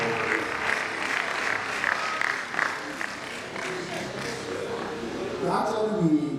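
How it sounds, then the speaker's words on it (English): Audience applause for Dr. Felicia Yusuf at a registry lecture, with steady clapping from the crowd continuing beneath a speaker's talking. "Please clap for her."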